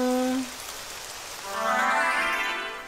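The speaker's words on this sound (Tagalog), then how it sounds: "Umuulan pa rin." Rain falls as a steady hiss of drops in a cartoon scene, heard behind fading music tones and rising to a fuller wash partway through.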